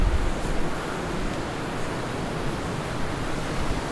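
Steady outdoor wind gusting around a stone barn on an autumn day, a broad continuous rushing that swells slightly and stays fairly loud throughout, with no voices.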